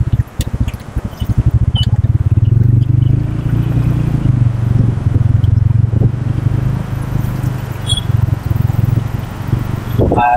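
Motorcycle ridden along a main road with a Sepal Shield rain umbrella fitted, its engine a loud, steady low drone with rushing wind and rattling throughout, the pitch shifting slightly partway through.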